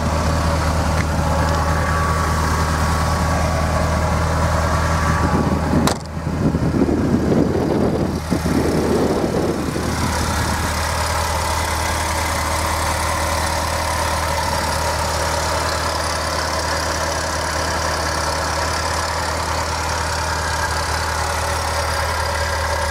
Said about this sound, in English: Bosch fuel injection there, engine ticks over well.